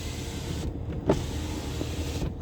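Power windows on a 2014 Porsche Panamera Turbo whir up and down in a quiet car interior, with a soft motor hum, a brief thunk near the middle and a second run near the end.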